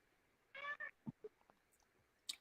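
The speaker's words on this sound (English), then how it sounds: "because I don't know if you can hear my cat" A house cat meows once, fairly close and faint, a short two-part cry followed by a few soft clicks and small noises in an otherwise quiet room.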